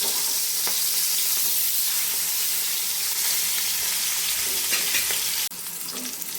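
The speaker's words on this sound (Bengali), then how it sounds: "ভালো করে ভেজে নেব।" Fish frying in hot oil in a pan, a loud continuous sizzle with occasional stirring scrapes that cuts off near the end, with no talking.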